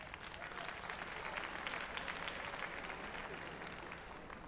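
Dense, steady applause from a large assembly crowd following a vote result at a general assembly session, a continuous wash of many hands clapping with no talk over it.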